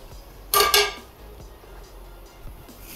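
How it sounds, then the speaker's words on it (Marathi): A metal wok is set down on a gas stove, giving a sharp, bright metallic clank about half a second in, followed by quieter low rumbling and a few soft knocks. "गॅस चालू केला, कढई गरम करायला ठेवली"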